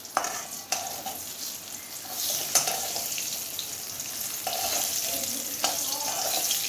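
Boiled potatoes and eggs frying with turmeric and salt for a Bengali egg curry, a steady close sizzle with stirring scrapes throughout and a few louder clinks of the spatula against the pan, no talking.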